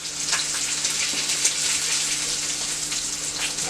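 Burgers and bacon sizzling in a frying pan, with a steady, loud crackling hiss that runs the whole time and a few sharper pops scattered through it.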